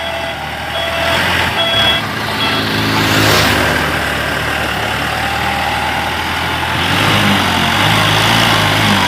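A dump truck hauling stones to a temple, its loud diesel engine rumbling steadily up close with a broadband roar that swells midway and again near the end, no speech.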